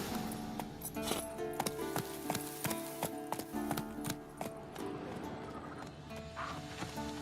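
Horse hooves in The Witcher 3: Wild Hunt clop steadily on hard ground with metallic jingling mixed in, close and rhythmic.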